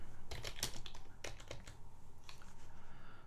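Quiet, close fingers type on a computer keyboard, with irregular bursts of soft key clicks and a few short pauses, entering a Linux terminal command.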